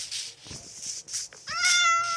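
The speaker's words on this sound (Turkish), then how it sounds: "Burada bir tane kedi var." A cat meows clearly in Minecraft, a drawn-out tonal cry near the end after some softer noises, sounding close and electronic like game audio.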